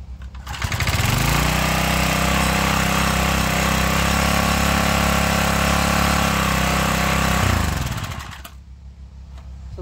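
A 1977 tiller's small engine, fitted with a points delete and an upgraded carburetor, starts up and runs at a loud, steady, close drone for several seconds, then shuts off and winds down near the end.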